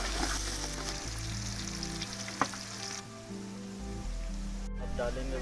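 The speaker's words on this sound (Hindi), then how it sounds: "अब डालेंगे भाई इसमें प्याज। हमारा तेल गर्म हो गया है।" Chopped onion hitting hot oil in a pan for an Indian chicken curry, a loud steady sizzle with a brief crackle midway.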